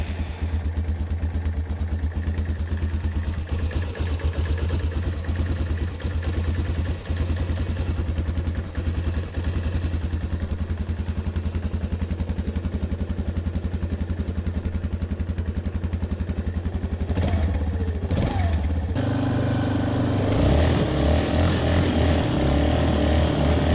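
Raptor 350 ATV engine running steadily at idle, a continuous close buzzing drone that shifts in pitch near the end as the throttle changes, with no one speaking.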